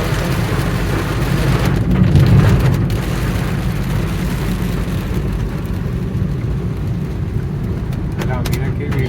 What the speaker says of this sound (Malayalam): മഴ ശക്തമായി.